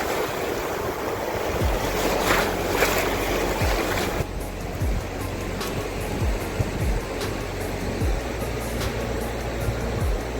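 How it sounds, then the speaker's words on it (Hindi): Ocean waves roll steadily onto Diveagar Beach on the Konkan coast of Maharashtra, a continuous broad surf wash with repeated low surges and some wind, with no voices. "जहाँ लहरों की आवाज़ दिल तक पहुँच जाती है"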